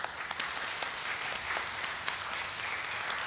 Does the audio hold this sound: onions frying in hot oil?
no